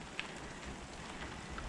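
Rain falls steadily around Busan near the Nakdong River, a faint, even patter with a few scattered drops and no talk.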